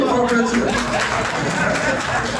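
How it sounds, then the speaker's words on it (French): Audience at a public debate between a Muslim speaker and a pastor breaking into applause, a dense, loud clapping crowd sustained throughout with scattered voices and chatter mixed in. "On va applaudir."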